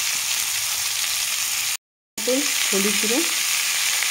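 Vegetables with boiled potatoes fry together in a pan, giving off a steady, close sizzling hiss that drops out briefly before a voice speaks over the continuing frying.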